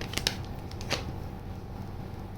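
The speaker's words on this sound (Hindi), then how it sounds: "तो पहले हम आपके कार्ड्स पुल करते हैं।" Tarot cards being shuffled and pulled from a deck, giving a few soft close riffles and snaps over a quiet background.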